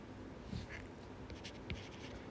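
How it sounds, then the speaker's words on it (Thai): A teacher writes numbers on a board during a subnetting lesson, giving soft, quiet strokes and scratches in a hushed classroom with no talk. "อาจารย์เขียนก่อนเนาะ"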